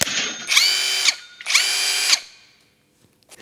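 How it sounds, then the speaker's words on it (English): A small 1/4-inch power screwdriver whirs in two close, loud bursts of about half a second each, separated by a short pause, then stops and leaves near silence. "No, this is a 1/4-inch screwdriver."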